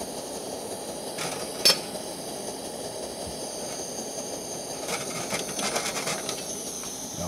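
An MSR WhisperLite Internationale camping stove burns under a pot of water at a rolling boil, giving a constant roaring hiss with a bubbling, rumbling undertone and a few brief clicks, close and steady with no talk.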